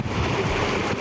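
Shallow river at the Kalikuning headwaters flows in a steady broadband rush of water, constant and close, with a low rumble and wind buffeting the microphone.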